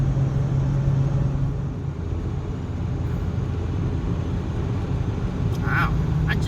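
An older Toyota truck engine running on a snowy test drive with winter tires: a steady, continuous low drone with road rumble, unchanging throughout.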